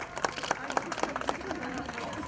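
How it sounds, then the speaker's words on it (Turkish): A small gathering at a Women's Day market event claps in a quick, even rhythm, the faint, regular claps sounding through background murmur and voices. "Hadi bir alkışla arkadaşlar."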